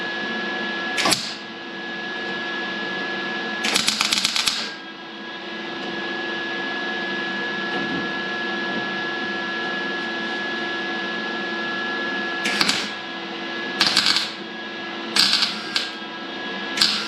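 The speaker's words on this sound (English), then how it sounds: "I don't know why my welder's acting up now." A malfunctioning welder works metal during car fabrication, holding a steady electrical hum broken by short, irregular crackling bursts, some clustered close together near the end.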